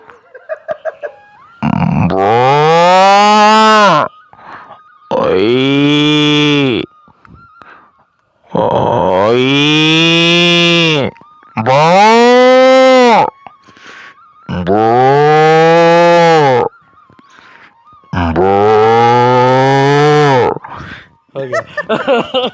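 A person imitates a cow, giving six long, loud, drawn-out moos in a row separated by short pauses, with faint background sounds between them.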